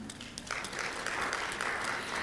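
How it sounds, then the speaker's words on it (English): An audience gives a round of applause at a senior living community event, a dense patter of clapping that starts quickly and holds steady, moderately near, with no speech over it. "let's give them a round of applause."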